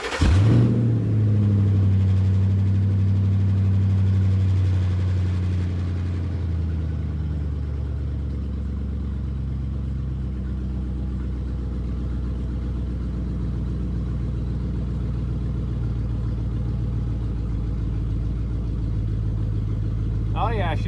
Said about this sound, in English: let's fire up the truck and put it in gear and see what this drive shaft does